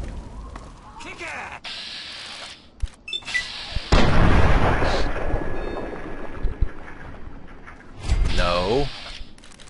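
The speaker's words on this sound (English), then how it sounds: "Quit shooting at me." Gunfire aimed at the player in the video game Fallout 3, with sharp bursts and a heavy boom-like blast midway through, plus a later whooshing burst, loud over game ambience.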